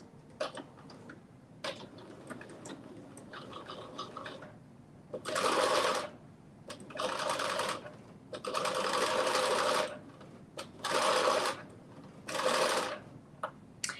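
A sewing machine fitted with a walking foot stitches through fleece fabric in several loud, steady running bursts of a second or two each, separated by quieter pauses with faint mechanical ticking.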